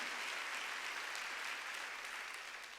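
A Korean Sunday worship congregation applauds in a church, a soft, even patter of many hands that holds steady and tapers off at the end.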